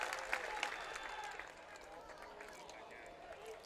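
Scattered applause from a crowd at a high school varsity baseball championship game, with a voice talking over the cheering and the clapping fading after the first second and a half.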